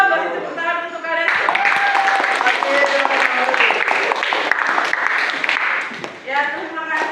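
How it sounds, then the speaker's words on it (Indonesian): Classroom applause from a group of schoolchildren, a dense burst of clapping lasting several seconds, with a voice talking before and after it. "beri tepuk tangan untuk kalian"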